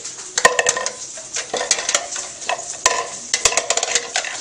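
Spoon stirring food in a pot, a close run of irregular scrapes and clinks against the metal with faint sizzling beneath, busy and uneven throughout.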